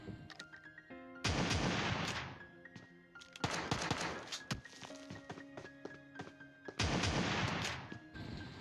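Gunfire in the mobile battle-royale game PUBG Mobile Lite: several loud bursts of shots in separate volleys, with clattering impacts and footsteps between them, no voices.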